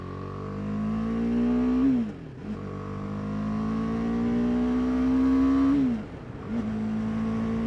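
A 2018 BMW G310R motorcycle being ridden through corners, its single-cylinder engine revving up in rising pitch, easing off twice with dips between the pulls, steady and fairly close.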